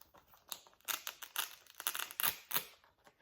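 Paper crinkling and rustling as a handmade scrapbook travel folio is opened, a close run of quick crisp crackles and soft flaps over about three seconds with no talk.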